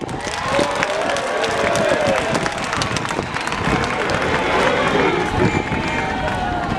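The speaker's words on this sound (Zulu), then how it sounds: "ngicela ke nishayele ihlombe" A large audience applauds at an address by the Zulu King Misuzulu kaZwelithini: dense, continuous clapping and crowd noise that stays loud and steady throughout, with voices mixed into the din.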